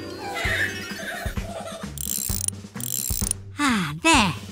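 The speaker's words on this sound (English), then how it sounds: "Strong muscles to clench to lift up this wrench." In a children's cartoon garage, a wrench ratchets on cogs with clicking, clanking mechanical sounds and whirring tones, mixed with playful sound effects and a brief horse-like whinny near the end.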